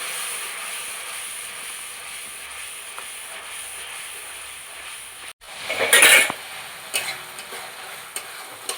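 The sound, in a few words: stirring and frying spice paste in a pan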